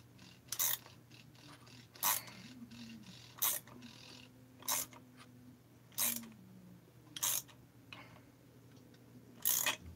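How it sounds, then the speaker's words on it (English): A ratchet turns a socket on a Husqvarna 262XP chainsaw during dismantling, giving about eight short bursts of clicking spaced roughly evenly apart, close and fairly quiet, with no talk. "Need a ratchet."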